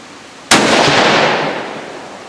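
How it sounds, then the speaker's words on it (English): A single .308 rifle fires G2 Research Trident ammunition at an outdoor range, one sharp, loud, close crack that rolls into a long fading echo over about a second and a half. "we'll see what 308 at 100 yards of this G2 ammo does"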